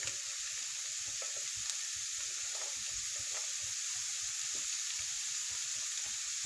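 Beef patty filling spiced with smoked paprika and parsley sizzles steadily in a pan, a dense, even hiss of frying broken by small crackles and pops, quiet and continuous with no voices.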